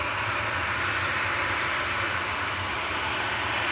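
Ryanair jet airliner departing Manchester Airport, a continuous broadband engine roar at fairly close range, steady and unbroken.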